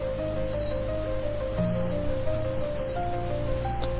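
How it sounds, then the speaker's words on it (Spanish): Amazonian cicadas buzz in short, regular bursts about once a second over a dense, steady hum of forest insects. "La cigarra amazónica."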